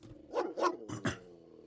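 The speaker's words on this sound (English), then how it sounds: "You can imagine how that dog look, and you're already not intimidated by it because you hear how he sound." A dog gives four quick, gruff barks in two pairs, close and punchy against near silence.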